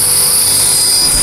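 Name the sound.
Tarot 450 RC helicopter flying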